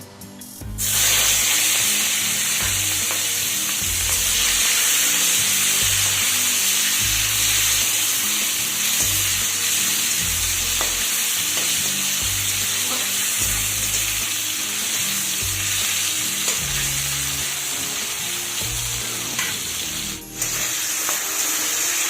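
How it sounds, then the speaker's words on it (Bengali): Small shrimp coated in salt and turmeric sizzle and spatter steadily in hot oil in a pan, a loud continuous frying hiss with faint clinks of stirring. "প্রথমে এই চিংড়ি মাছটাকে ভেজে নেব"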